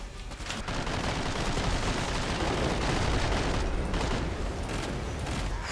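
Mac-10 submachine gun fired in Killing Floor 2, a dense, continuous roar of rapid automatic fire that runs loud and unbroken for several seconds with no talk.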